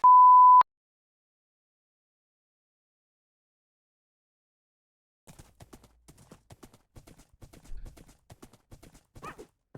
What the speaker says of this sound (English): Because this horse is so quick, I just keep going off.